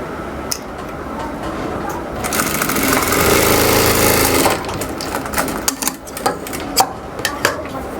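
A sewing machine stitching a child's blouse, running in a steady whir for a couple of seconds, then stopping amid handling clicks and fabric rustle.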